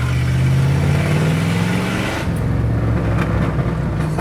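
A 1959 hot rod's engine rumbles loud and close, a deep steady note that shifts pitch midway as the car revs and pulls away, with no talking over it.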